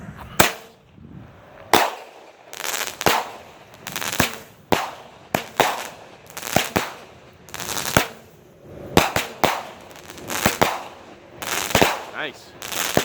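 A Smoke Show 200-gram daytime firework cake going off outdoors, firing a rapid, uneven series of sharp bangs and pops, loud and close, over roughly thirteen seconds.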